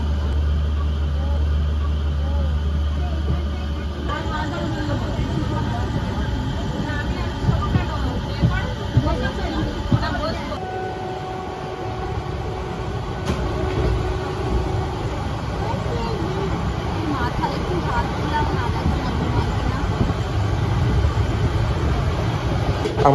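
Inside the Howrah-Chakradharpur Express as it pulls out of Howrah station: a continuous low rumble of the moving carriage with people chattering throughout, occasional clunks, and a faint tone in the background.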